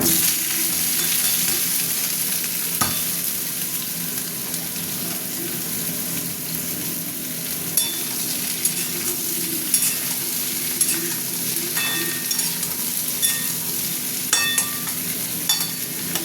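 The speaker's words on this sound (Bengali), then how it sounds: "তেল গরম হয়ে গেছে, এবার এটা ভেজে নেবো একটু।" Continuous crackling sizzle of jackfruit and prawns frying in hot oil, with occasional sharp spatters and clinks of stirring throughout.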